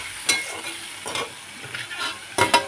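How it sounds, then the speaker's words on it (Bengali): Turmeric and salt stirred into a spice paste frying in a pan, soft sizzle under scraping stirs that come in a few sharp bursts, close and alone. "এখন মশলাটাকে ভালো করে কষিয়ে দিই।"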